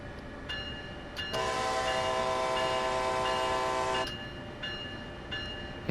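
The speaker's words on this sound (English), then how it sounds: "start playing around with the horn in a second" An Amtrak ACS64 locomotive horn in Train Sim World 2 sounds one long, loud, sustained multi-tone blast lasting about three seconds, set between shorter horn taps and a steady rumble of the moving train.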